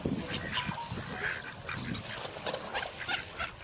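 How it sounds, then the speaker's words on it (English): Mixed ducks at an Australian creek keep up a steady chorus of honking quacks, with overlapping calls at moderate distance over outdoor background noise. "There's mixed ducks still more."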